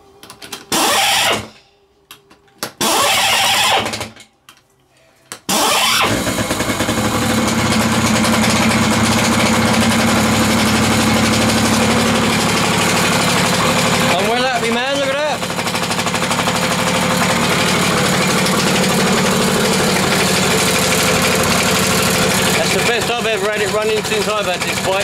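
A 1985 Yamaha PW80 dirt bike's small engine: choppy bursts as it tries to catch, then it settles into a steady, loud idle that runs on with slight revving changes.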